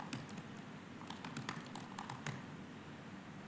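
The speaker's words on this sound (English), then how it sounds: "I like the sound of my hands typing on the keyboard" Hands type on a computer keyboard in a quiet room, a soft irregular run of light key clicks and taps over low background noise.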